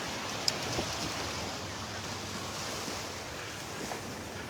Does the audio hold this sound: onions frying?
no